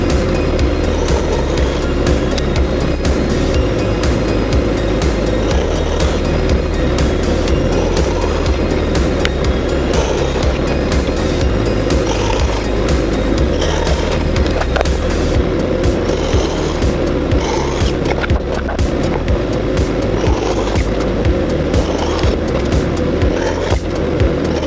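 Wood being cut on a saw with a 15-degree sled: a loud, continuous whirring cut noise that holds steady for the whole stretch with a deep rumble underneath.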